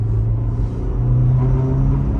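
A steady low engine drone inside a Renault Laguna 2 at high revs, with a humming, buzzing vibration underneath from a rattling underbody skid plate.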